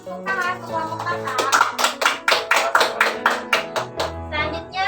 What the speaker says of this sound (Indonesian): Berikan tepuk tangan ke kelompok Tata.